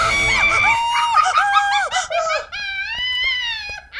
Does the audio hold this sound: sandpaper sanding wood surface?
no